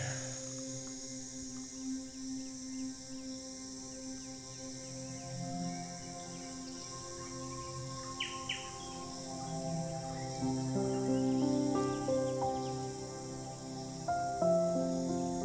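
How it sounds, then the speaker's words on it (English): Birds call in layered, tonal chirps and whistles over a steady hum of insects beside a calm, clear lake, the chorus faint at first and growing busier toward the end. "Birds and sound of insects everywhere"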